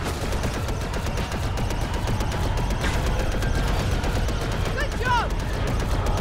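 Blaster fire in a Lego Star Wars video game, a dense rapid barrage of zapping shots over a loud engine-like roar, with a couple of sweeping laser chirps near the end, all continuous and close.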